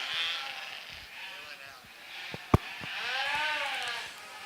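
Sheep at a county fair show give wavering bleats, one early and a longer one toward the end, with a sharp knock between them and a voice talking faintly behind.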